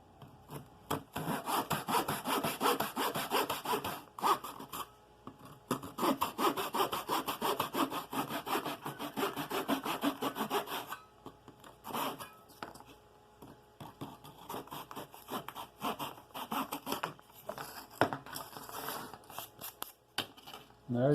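Hand saw cutting a soft wood propeller blank, rapid rasping back-and-forth strokes in long runs with short pauses, close and fairly quiet.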